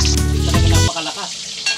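Marinated tilapia fries loudly in a pan of hot oil, a harsh spitting sizzle that surges at first and then settles into a softer crackle.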